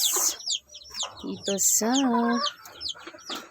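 Chicks peep in quick high chirps while a hen gives low clucks and a drawn-out call among the backyard livestock chickens, close by, with someone talking briefly over them.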